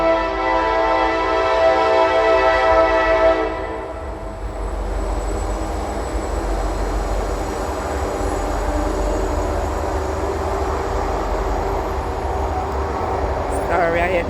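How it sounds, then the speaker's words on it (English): A train passes close by outdoors near a garden, a loud steady rumble with rail clatter filling the whole stretch, easing slightly after the first few seconds and ending with a brief high squeal. "Sorry, I had to stop because of the train. You hear how loud it is."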